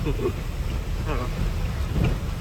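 Heavy monsoon downpour pounds a loaded truck cab on the road, a dense, steady roar of rain drumming close on the roof and windshield with no letup.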